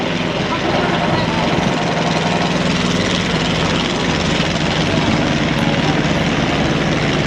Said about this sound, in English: This Biggin Hill biplane is designed to sound and look just like an original 1914 aircraft.